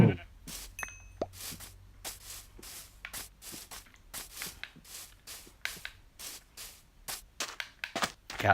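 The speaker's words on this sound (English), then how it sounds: "That's the sheep." Blocky Minecraft sheep bleating in the video game, a run of short repeated bursts spaced irregularly across the clip, fairly close and clear with no talk over them.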